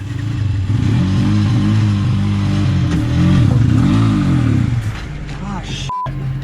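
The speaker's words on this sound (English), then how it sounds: "There was no power coming from the engine." An auto rickshaw engine losing power runs with a rough mid-pitched putter that rises and dips as it struggles to accelerate, loud and close, then settles lower near the end.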